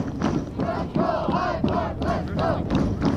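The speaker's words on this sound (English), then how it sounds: "hearing those OSU chants, High Park fans responding back with the chant of themselves, cheering on High Park" Supporters of Ottawa South United and Toronto High Park FC chant at a U17 boys soccer final, the crowd voices rising and falling in rhythmic, echoing waves.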